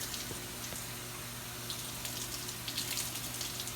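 Hot water runs steadily through a Bissell 2X Pet Pro Heat carpet cleaner, a continuous gushing flow over a low pump hum, with no talk.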